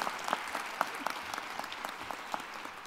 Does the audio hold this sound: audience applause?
yes